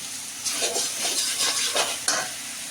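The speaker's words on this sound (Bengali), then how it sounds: "এখন আমি কোয়াশ আলুটাকে ঢেলে দিচ্ছি। এটা দিয়ে আমি 10 মিনিট মতন ফ্রাই করবো এটাকে ভালো করে।" Squash and potato pieces fry in a spice mix in a pan, a soft continuous sizzle broken by several scraping stirs and a sharp utensil knock near the end.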